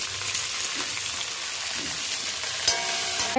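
Curry leaves, onion and green chili fry in oil for radish sambar, giving a steady, soft sizzle with faint stirring scrapes throughout.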